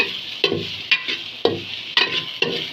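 Food sautéing in a pan is stirred with steady, rhythmic scraping strokes about twice a second over a light sizzle, close and fairly loud, with no talking.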